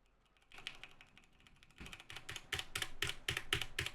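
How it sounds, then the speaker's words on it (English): Computer keyboard keys clicked during a Lord of the Rings Online game session, starting with a few scattered taps and building into dense, rapid bursts of close, crisp clatter by the end. "Can you hear me clicking 3? I am clicking buttons."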